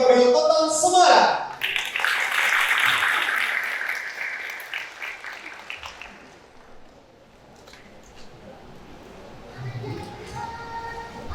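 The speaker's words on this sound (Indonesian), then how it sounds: "Berikan tepuk tangan yang meriah sekali lagi Bapak Ibu" An audience at a Central Java inauguration ceremony in Semarang breaks into loud, dense clapping right after a dance performance ends. The applause holds for a few seconds, then thins out and fades beneath quieter sounds.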